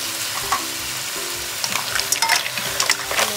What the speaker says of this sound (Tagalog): ilagay na natin ang tahong.